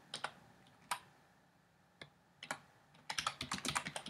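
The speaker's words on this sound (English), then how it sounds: "Excuse my typing here." Scattered keystrokes on a computer keyboard, a few isolated taps and pauses, then a quick burst of typing at the end; close and fairly quiet.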